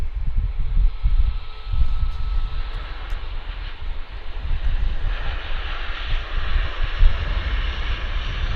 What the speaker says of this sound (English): so we can get this Westjet landing.